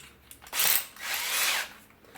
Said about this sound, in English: We've got a drill right here.